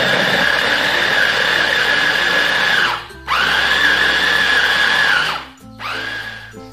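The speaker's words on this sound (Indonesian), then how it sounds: "Kemudian ini kita blender lagi sampai halus" An electric blender grinds meat with fried shallots and garlic into a smooth sausage paste, whirring loudly in three long bursts with short pauses between them, close and alone.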